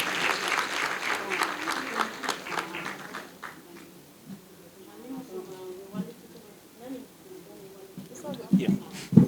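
Applause at the launch of the Neneh Mawdo Charity Foundation in the Gambia, for the First Lady: a dense burst of clapping in the first few seconds, then thinning to scattered claps under murmuring voices.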